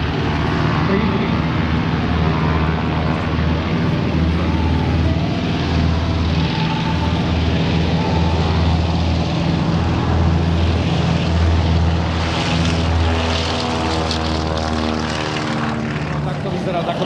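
Radial piston engines of a Lisunov Li-2 propeller airliner at the Piešťany aviation festival drone steadily and loudly throughout, a close, throbbing propeller roar with no letup.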